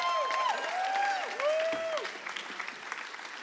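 A comedy show audience applauds a volunteer coming on stage, steady clapping with a few high gliding whistles or whoops riding over it, fading slightly toward the end.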